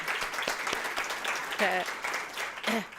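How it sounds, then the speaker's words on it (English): Audience applause at a Forest Lake women's basketball banquet: a steady, fairly loud wash of clapping that runs the whole length, with voices and a few calls rising over it near the middle and end. "Can we just give a round of applause for Dave Osterkamp?"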